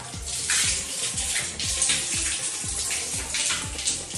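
Hot water runs steadily from the tap of a new Yosmith instant water heater, a close, continuous splashing stream into a basin, loud and uninterrupted, with no talking.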